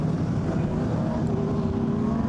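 A Dodge Dart race car at a historic motor racing members' meeting at Goodwood, its engine a steady, continuous roar throughout, fairly loud, with no clear rise or fade of a passing car.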